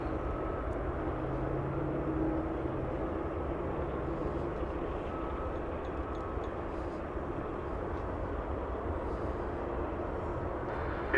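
Aircraft at DFW Airport, where a Boeing 747 waits on the ground, heard as a loud, steady jet engine roar that holds for the whole stretch without voices.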